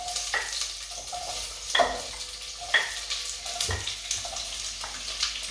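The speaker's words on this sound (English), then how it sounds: "2 or 3 tablespoons of oil. Okay, and into that we're going to add our onions." Onions hit a few tablespoons of hot oil and fry with a crackling hiss, broken by several sharp clinks and scrapes of stirring in the pan, close up and without talk.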